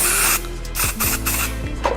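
A brief hiss of hair spray from an aerosol can, then a couple of quick clicks and a whirring mechanical hum close by.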